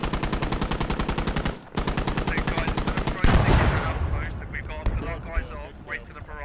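A tank's ammo rack explodes in a modern tank battle game: rapid, steady machine-gun fire gives way to a heavy, close blast that fades into rumbling, with someone talking over the aftermath.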